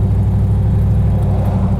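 Engine of a 1955 Ford three-row wagon on a test drive, a loud, close, steady low rumble with a faint whirring layer and no pauses.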